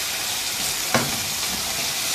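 Mutton liver masala frying in a pan with dried fenugreek leaves, stirred once: a steady soft sizzle throughout, broken by a single brief scrape of the spoon near the middle.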